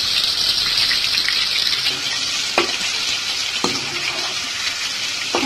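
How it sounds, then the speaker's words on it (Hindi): Chicken pieces frying in hot oil in a pan for a pesto pasta dish, giving a steady, loud sizzle throughout with a few soft clinks and stirring bumps near the middle. "देख सकते हैं कितना प्यारा चिकन जो है वो फ्राइड हो रहा है।"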